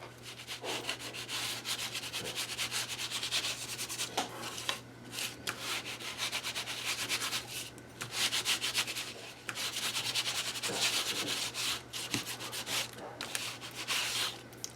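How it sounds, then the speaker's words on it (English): A sanding block rubs back and forth on a paper craft piece in quick, steady rasping strokes, close up, with short pauses between passes and a faint hum beneath. "I'm going to bring my sanding block in and I'm going to sand it."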